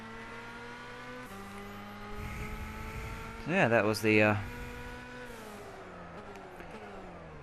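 2001 Opel Corsa driven in Gran Turismo 6 gives a steady engine drone that shifts pitch across gear changes, with a brief louder squeal-like burst midway and a short spoken remark over it.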